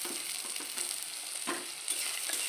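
Tomatoes sauté in a pan for pasta, giving a continuous close sizzle broken by repeated soft scraping stirs, and no voices.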